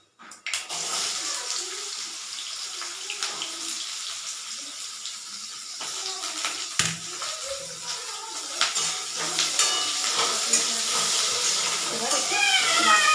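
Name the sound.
panch phoron spices crackling in oil before adding amra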